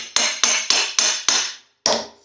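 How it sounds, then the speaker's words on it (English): Claw hammer striking a nylon block to tap a pulley onto a motor shaft during a compressor build: six sharp, loud impacts, five in a steady quick rhythm, then a pause and one final strike, each ringing briefly. "using this claw hammer and this nylon block"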